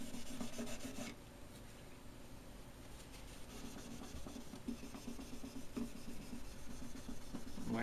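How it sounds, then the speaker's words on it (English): Steady rubbing and rasping as a polishing kit scrubs between guitar frets on the fretboard, a continuous close scratchy texture with no talk. "And then I'll go between each fret and scrub it down really good."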